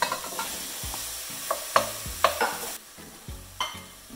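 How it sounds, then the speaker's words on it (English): Leeks and potatoes sauté in olive oil in a pan, a close sizzle broken by repeated scraping stirs and a few clinks of a utensil against the pan, with the hiss dropping noticeably partway through. "let's add some olive oil. Then go ahead and add the leeks. And then add the potatoes."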